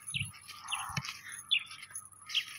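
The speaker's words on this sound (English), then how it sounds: "That's an African weaver bird over there making some noise" An African weaver bird calls near a Maasai village in Kenya, giving a few short, bright chirps and tweets scattered over about two seconds against a low outdoor background, moderately faint.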